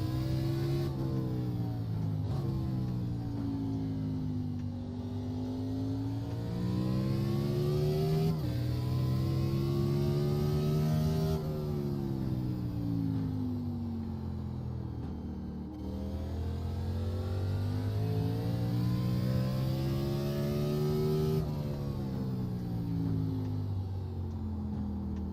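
A race car engine in the iRacing simulator on the short Martinsville oval rises and falls in pitch through repeated acceleration and lift-off cycles, steady and loud throughout without talk.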